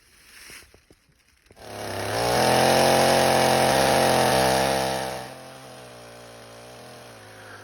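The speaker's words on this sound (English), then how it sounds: "chopping trees down with a chainsaw, cutting them up into stumps and, chopping them up for firewood" Chainsaw cutting firewood for an off-grid cabin: a few knocks, then the saw revs up into a loud, steady cutting whine for about three seconds before dropping back to a rough idle, close by.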